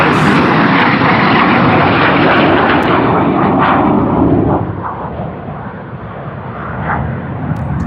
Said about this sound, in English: like I said, the F-35